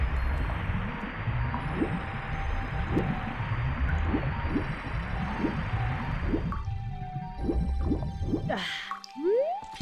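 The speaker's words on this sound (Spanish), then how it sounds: "Aumenta el nivel del mar." Water gurgles, drips and squelches as the level rises in a fan-made hack of The Legend of Zelda: Ocarina of Time, a steady wet bubbling with a sharp drop in texture and a rising sweep near the end.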